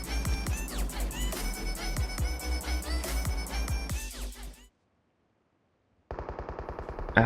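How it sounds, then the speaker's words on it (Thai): Rapid bursts of automatic AKM gunfire in PUBG Mobile rattle loudly, cut off into silence, then resume with another quick volley. "เสียงปืนข้างหน้านะครับ"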